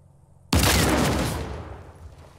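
After a moment of quiet, one loud gunshot blast from the video game Uncharted 4: A Thief's End bursts out and its echo fades away over about two seconds.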